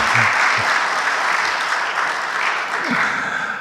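Church congregation applauding the choir during a Sunday service, a dense, even roar of clapping filling the whole stretch, with faint voices underneath.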